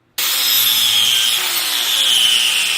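An abrasive cutting tool notches a steel frame tube for a drift trike, starting abruptly with a loud, sustained high-pitched screech that holds steady and close for the rest of the moment.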